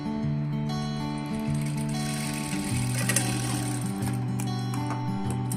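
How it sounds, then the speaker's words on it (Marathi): Electric sewing machine stitching thin saree blouse fabric, with a steady rapid mechanical hum and whir that runs in overlapping bursts, close and loud with no voices. "तुम्ही याच्यावर अशी शिलाई मारून घ्या"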